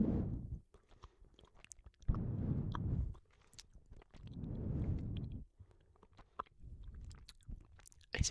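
Someone chews an Ikea chocolate close to the mic, soft wet mouth sounds in three slow bursts separated by brief quiet pauses, intimate and faint with no talking.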